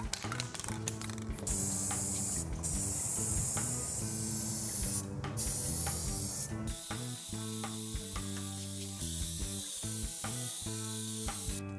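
Aerosol primer sprays onto a prop tube in repeated hissing bursts of varying length, close by and moderately loud, with short clicking pauses between passes.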